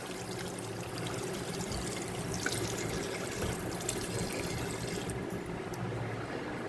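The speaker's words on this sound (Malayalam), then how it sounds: "കൈ കഴുകാം." Water running steadily over hands during handwashing, a continuous moderate pour and trickle at close range with no talk.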